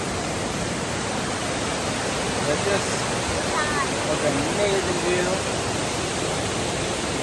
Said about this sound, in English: Also, there's a waterfall.